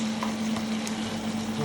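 Lentils go into a pan of sizzling, gooey tomatoes, giving a steady close crackle and hiss with brief stirring scrapes and a low hum underneath, no voices.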